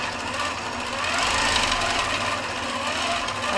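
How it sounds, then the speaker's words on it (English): A quilting sewing machine stitching as it is moved across fabric, producing a continuous, rapid mechanical whir and needle chatter, steady and close, with no voices. "as soon as I move the machine, it will start to sew"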